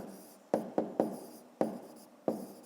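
A pen or pencil writes numbers by hand on paper in a maths exercise, giving five or six short scratchy strokes at uneven intervals, close and fairly quiet, with no speech.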